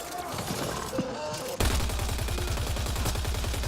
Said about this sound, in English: Keep firing forever. NSF, never stop firing.